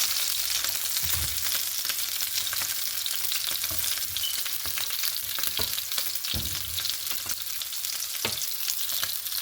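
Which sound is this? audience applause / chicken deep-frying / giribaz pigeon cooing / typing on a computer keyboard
chicken deep-frying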